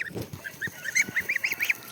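Domestic geese on a pasture honk repeatedly in quick succession, the calls growing louder and more insistent, close by.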